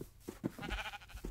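Sheep bleating in a video game, a few short bleats in quick succession, moderately close, heard alone with no talk.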